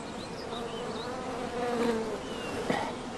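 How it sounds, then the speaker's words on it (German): Honey bees at a beekeeper's hives buzz steadily in a continuous droning hum, with a few individual insects swelling briefly louder as they pass close by. "Sie könnten uns gerne mal Ihre Bienen zeigen, Herr Gutzett."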